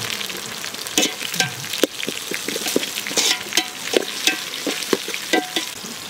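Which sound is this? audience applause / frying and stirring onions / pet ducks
frying and stirring onions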